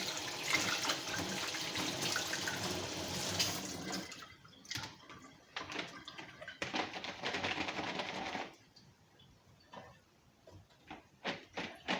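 Okra leaves being rinsed under running water, a steady splashing stream that stops partway, followed by scattered drips, handling clatter and rustling at moderate loudness.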